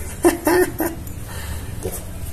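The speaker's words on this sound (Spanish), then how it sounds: "¡Qué maravilla de perritos!" Afghan hounds give a few short whimpers and yips, three quick cries close together and a fainter one after a pause, over a low background murmur.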